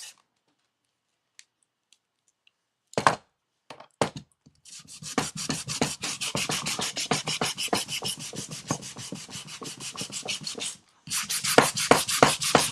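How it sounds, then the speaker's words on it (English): Steady, rapid rasping of sandpaper sanding primer off a surface, continuous strokes with a brief pause, close and fairly loud with no talking. "So I'm going to be sanding it off right now."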